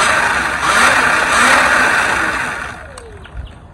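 Surron electric dirt bike at full throttle, a rising whine that swells, holds fairly loud, then fades as it moves off, with a faint click near the end.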